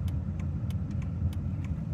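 A car rolls forward slowly in a queue to enter a flea market, a steady low engine rumble close by with faint light ticks over it.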